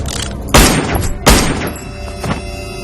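Two loud, sharp gunshots in an Indonesian short film, about three-quarters of a second apart, each a sudden booming burst that trails off, followed by quieter background noise.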